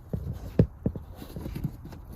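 Glue bond tearing as the rear seat bottom cushion of a 10th-generation Honda Civic is pulled free: a handful of short, dull cracks and pops at close range, irregularly spaced over a quiet background.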